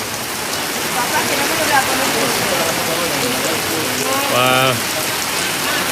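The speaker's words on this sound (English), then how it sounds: "This is the first time it's rained all week." Heavy rain pours down during a thunderstorm in Benidorm, a dense, loud, continuous hiss of drops hitting surfaces, with a person briefly exclaiming near the end.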